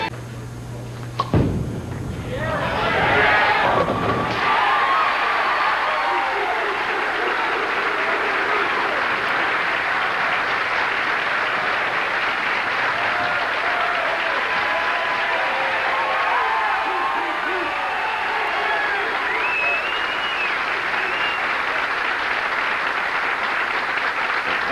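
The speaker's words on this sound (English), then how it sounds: "That's the most sustained cheering that we've heard on the tour for a long time" Crowd at a PBA bowling championship round applauding and cheering for hometown favorite Danny Wiseman in Baltimore, a sharp burst followed by loud, sustained clapping and whoops that holds steady for over twenty seconds.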